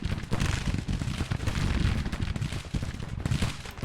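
Artillery fire in the Civil War strategy game Grand Tactician, heard as a dense, continuous rumble of overlapping booms and cracks that stays loud for the whole stretch, with no voices.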